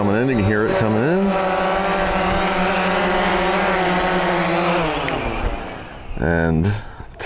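A DJI Phantom 3 quadcopter drone flies in to land, its loud buzzing rotor whine holding steady, then dropping away, with a short burst of rising pitch near the end. Someone speaks over the start.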